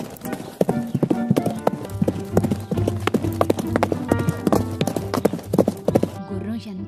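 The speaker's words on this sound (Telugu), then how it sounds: "దాంతో మరింత వేగంగా పరిగెత్తింది గుర్రం" A horse gallops with rapid, rhythmic hoof clip-clops, loud and close, accompanied by an occasional whinny. The beat stays continuous for several seconds.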